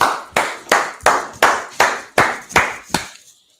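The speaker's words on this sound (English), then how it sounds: "Clap it up." Eight evenly spaced sharp claps from an audience at a religious gathering, loud and close in a firm unison rhythm, then stopping.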